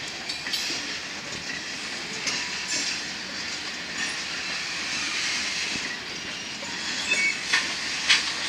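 Seven BNSF locomotives, including a pair of 40s, rumble steadily past during switching with a broad rushing hiss and occasional clanks from the cars, loud and continuous throughout.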